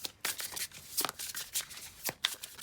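A tarot card deck being shuffled by hand, a run of quick papery riffles and flutters in irregular bursts, close and fairly quiet with no talking.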